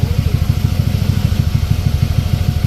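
A Honda Click 125i scooter with a 10/12 gram flyball CVT setup rides carrying a passenger, its engine droning loud and close with a steady pulsing throb throughout.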